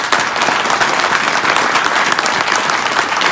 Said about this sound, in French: ce que j'aimerais, c'est qu'on lui fasse tous une minute d'applaudissement.